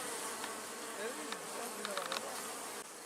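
A honeybee swarm gathering on a branch, a dense, steady buzzing of many bees swirling close by, with individual insects droning past. There are no voices.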